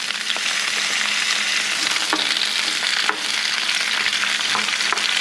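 Vegetables for green pozole fry hard in a crowded pan, a loud, dense, unbroken sizzle close up with occasional stirring scrapes and no voices.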